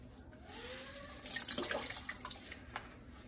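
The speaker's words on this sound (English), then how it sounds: "I want to really squeeze out any excess water." Excess water is wrung from a Norwex mop, trickling and splashing close by in a steady stream with a few drips as the squeezing continues.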